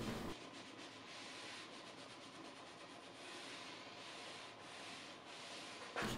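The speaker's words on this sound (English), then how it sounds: "Instead of waiting to buff the wax when it's dry, I'm just going to wipe it off." A cloth wipes wet wax off a wooden vintage bar cart, a steady close rubbing and scrubbing that carries on without a break for about six seconds, with no voices.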